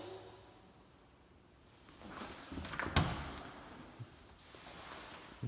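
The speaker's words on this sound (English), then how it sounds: "soft closing doors" A soft-closing kitchen cabinet door in a new-build house closes with a gentle swish and a single muted thunk, followed by a fainter knock, against quiet room tone.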